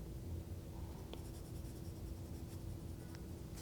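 A stylus erasing on a tablet in Procreate makes a faint, continuous light scratching against the glass screen, heard alone and close.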